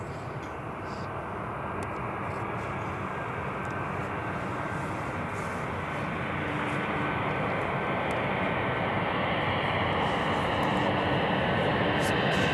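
Eastern Airways Embraer airliner arriving from Amsterdam and landing at Newcastle Airport in a crosswind: a broad, steady engine roar that builds gradually and grows louder as the plane approaches, heard from outdoors at a distance.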